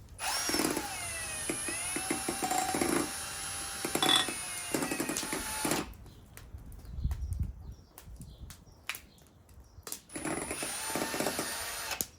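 A big beater mixer whips cream into butter outdoors by a campfire, a steady whirring drone with rattling clicks that pauses midway, leaving crackling quieter sounds before the motor resumes.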